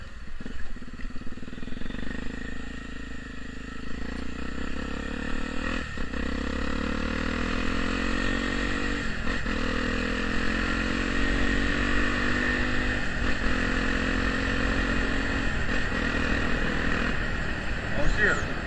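A Honda Tornado motorcycle fitted with a Protork aftermarket exhaust idles and revs in a loud, sustained drone with repeated throttle blips, close to the microphone, while someone talks over it.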